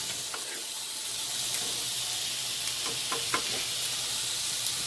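Chicken and broccoli sizzle steadily in a pan over high heat for Chinese chicken and broccoli in garlic sauce, a continuous close hiss with a few soft stirring clicks and no voices.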